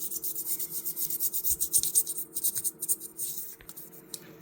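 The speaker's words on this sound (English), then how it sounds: "1000 grit, just sandpaper." Hand sanding a classic Imperial fish knife blade with 1000 grit sandpaper gives a close, rhythmic rasping rub, quick back-and-forth strokes that ease off toward the end, with no talking.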